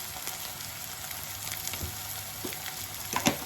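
Ginger garlic paste, about a spoonful, sizzling and frying steadily in a hot pan for an egg curry, with a soft stir or clatter near the end and no talking.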